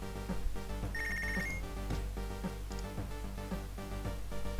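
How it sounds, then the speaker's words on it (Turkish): A telephone rings in the Punch Club video game, its bright electronic trill sounding in repeated bursts over steady game music. "telefon çalıyor"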